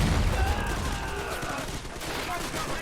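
Gunfire in the Men of War: Assault Squad 2 war game set in the 1941 defense of Moscow, with continuous rifle and machine-gun fusillades crackling amid dense battle noise.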